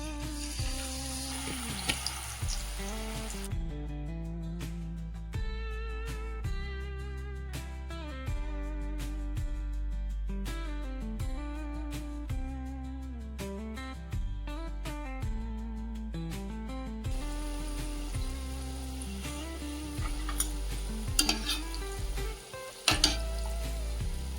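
Spiral-cut potato dusted with chaat masala frying in hot oil, a steady sizzle running under loud background music throughout, with a few brief clatters near the end.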